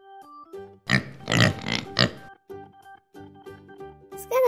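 A few short snorting grunts like a pig oinking in a children's cartoon, fairly close, followed by softer repeated grunts and a brief tonal sound at the end.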